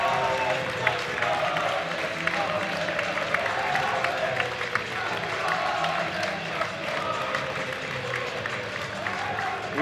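Steady applause from a football crowd and players at a youth league trophy presentation after Burton Albion versus West Bromwich Albion, continuous clapping with a broad crowd murmur throughout.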